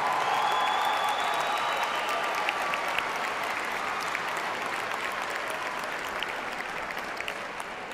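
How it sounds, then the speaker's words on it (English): Sustained audience applause fills a large hall at a university fall commencement ceremony, a dense steady wash of many hands clapping that gradually eases toward the end. "how about another big round of applause for Mr. John Strada doing all the names today"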